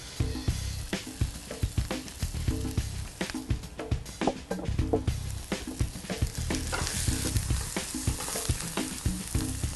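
Oyster mushrooms frying over low heat in butter and olive oil, a steady close sizzle broken by frequent scraping stirs.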